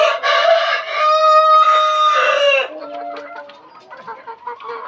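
Chickens cluck and a rooster crows loudly and close in a farm coop, one long crow followed by scattered clucking from the flock.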